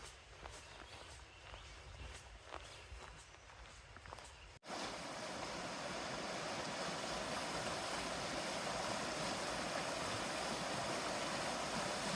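Fast-moving shallow stream at a hiking trail crossing, a dense steady rushing of water close by, preceded by a few seconds of quieter outdoor sound with footsteps before the water noise swells and holds.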